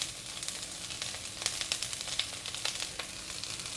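Chopped onion and half a carrot sizzle in a hot oiled pan for Korean japchae, a steady close crackle with small pops and spatters throughout and no voices.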